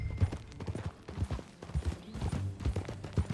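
Horse hooves clip-clop in a steady rhythmic gait while riding in the video game Red Dead Redemption 2, close and clear, with faint background game ambience and no speech.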